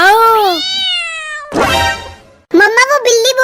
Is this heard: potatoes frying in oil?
no